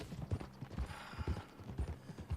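A horse's hooves clip-clop at a walking pace in the open-world western game Red Dead Redemption 2, a quiet, regular patter of several distinct hoof strikes with faint game ambience around them.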